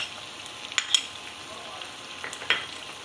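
Yogurt, about one and a half tablespoons, drops into garlic and ginger frying in a pan for chicken matar gosht, giving a steady sizzle with a few brief scraping clinks of a spoon.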